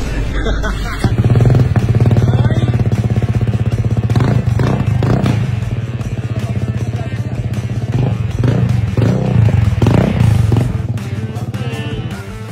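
A motorcycle engine fitted with a muffler runs loud and close in a steady, throaty idle with bursts of revving, rumbling continuously throughout, with people's voices faintly under it.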